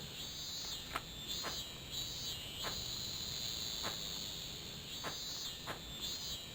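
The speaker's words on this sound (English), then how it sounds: "Those are cicadas." Cicadas drone in an unbroken high buzz throughout a scene in the stealth game Tenchu, with faint ticking clicks recurring over the steady hum.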